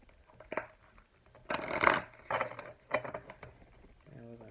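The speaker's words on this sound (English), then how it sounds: "so I'm trying to shuffle them." A tarot card deck being shuffled by hand, with soft, irregular riffles and flicks in short bursts, fairly quiet and close.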